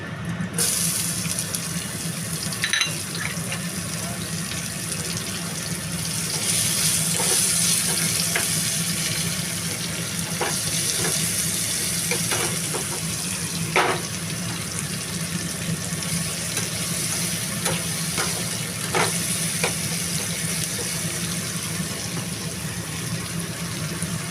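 Sliced onion sizzles and crackles in hot oil already seasoned with cumin seeds and bay leaf for a prawn curry, a steady, loud frying hiss with occasional sharper pops and stirring scrapes throughout.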